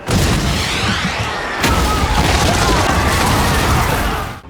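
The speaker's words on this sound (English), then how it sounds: "Inishi's allies launched indiscriminate artillery strikes across Tokyo, plunging the city into fire and chaos" Artillery strikes and explosions rain down across Tokyo in an anime battle scene, a loud, sustained roar of blasts and rumbling fire with a sharp burst partway through, fading out at the end.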